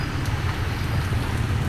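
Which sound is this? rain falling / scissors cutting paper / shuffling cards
rain falling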